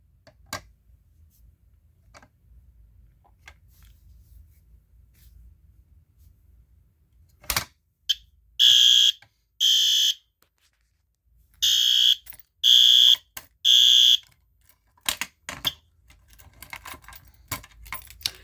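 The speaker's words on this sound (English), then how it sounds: "I just pull down the fire alarm and the horn strobe just sound" A fire alarm horn strobe, set off from a pull station during a system test, blasts in two short bursts and then three more, loud and close, after a quiet stretch, with clicks and handling noise around it.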